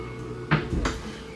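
Furniture in a new 2024 fifth wheel trailer gives two short wooden creaks or knocks, close and fairly soft against a quiet room hum.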